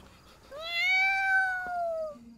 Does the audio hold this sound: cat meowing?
yes